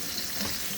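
Tap water running over vegetables being washed in a home kitchen sink, a steady, close hiss of flowing water with a faint splatter throughout the brief moment.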